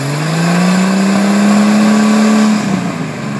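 An engine revs hard and holds a steady rising drone while the back wheels turn back and forth in mud, loud and close, then eases off near the end.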